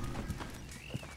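Horse hooves clip-clop in Red Dead Redemption 2, a few soft uneven steps at a walking pace, fairly quiet under a thick wash of in-game ambience, with no one speaking.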